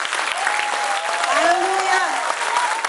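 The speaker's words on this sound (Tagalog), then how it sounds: "Palakpakan nga natin si Lord." Church congregation applauding steadily through the clip, a dense wash of clapping with voices calling and singing out over it.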